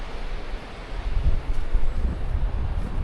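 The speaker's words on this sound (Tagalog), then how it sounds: "Mahangin dito, grabe." Strong wind beside the Chico River buffets the microphone in low, gusting rumbles that swell and ease over a few seconds, with a soft airy hiss underneath and no talking.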